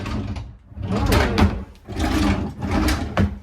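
Hotel room drawers sliding open and shut several times in a row, each a close wooden scraping rumble lasting about a second, separated by short pauses.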